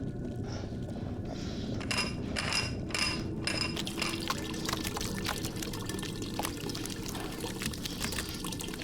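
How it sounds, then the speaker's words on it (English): Liquid pours and trickles steadily in a video game as a tap is shut off and bile drains, a continuous watery rush with faint splashes and dribbles running throughout. "Turn off the tap and drain the bile."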